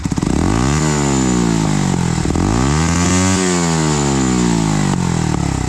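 A Bajaj NS200 motorcycle with a loud aftermarket exhaust revs repeatedly, the engine pitch climbing and falling in strong sweeps, close up and continuous.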